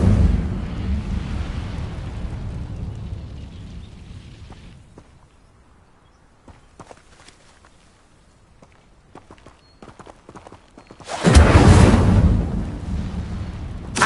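The Incendio fire spell in Hogwarts Legacy lands as a sudden loud, roaring whoosh of flame. It follows a low rumble that fades into a quiet stretch dotted with small clicks.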